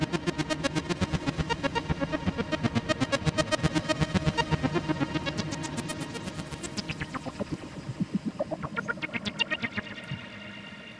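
A sequenced GForce AXXESS software synth patch with noise layered in, pulsing in a steady rapid rhythm with sweeping, squelchy filter movements, loud and alone.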